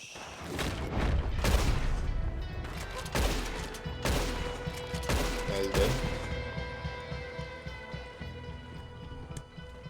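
Gunfire in Red Dead Redemption 2 Online: a rapid string of sharp, loud shots crackling close by over the first six seconds, then trailing off into a lingering ambient ring.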